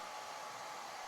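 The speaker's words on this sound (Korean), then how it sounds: "헤어드라이기로 머리를 말려요." A hair dryer blows steadily while drying hair after a shower, a continuous close, loud whooshing hum with an even airflow roar and no talking.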